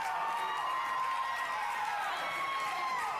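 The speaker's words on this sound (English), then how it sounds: "And the fans showing some appreciation for both men right now" A wrestling arena crowd cheers steadily, a continuous wash of voices and applause at even volume throughout, with no single voice standing out.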